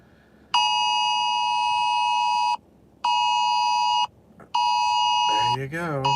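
Three bursts of a bright, steady electronic phone notification tone ring out in sequence, loud and near, with short gaps between them, while a storm chaser's car ride goes on underneath and a voice speaks at the very end.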